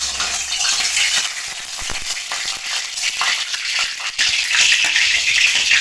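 Small mourala fish, salted and dusted with turmeric, fry in hot oil in a wok, giving a loud, steady, close sizzle with crackling spatter that runs throughout with no one talking.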